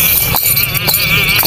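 A dancing horse of a Jhang breed line strikes its hooves in a loud, close clip-clop, with about three sharp, spaced beats over a steady outdoor background.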